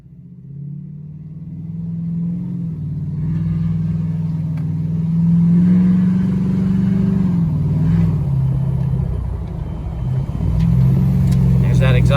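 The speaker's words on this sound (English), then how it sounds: "There's that exhaust brake." Ford F-250 with the 6.7 Powerstroke diesel and a 4-inch straight pipe, engaging its exhaust brake while towing: a loud, steady low rumble that holds for several seconds, dips briefly, then swells again, with no talk over it.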